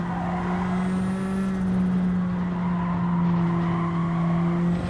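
A race car in Gran Turismo 7 corners hard, its engine holding a steady tone under a long, loud tire squeal as the tires skid through the bend, with no talking.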